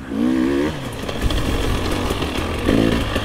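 Enduro motorcycle on its factory ECU, a Coober, revving hard on the first accelerations, a buzzing single-cylinder engine note that rises, holds steady and climbs again, close and loud with no talk.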